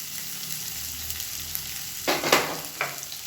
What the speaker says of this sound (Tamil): இதையும் சேர்த்து நல்லா வதக்கிக்கலாம். வெங்காயம் நல்லா வதங்கணும்.